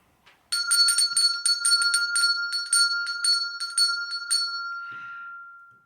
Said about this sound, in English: Funny that I rang it like that, because that felt like the bell for school time.